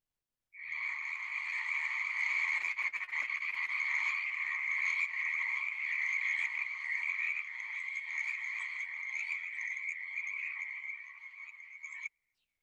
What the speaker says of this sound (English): listen to the frogs sing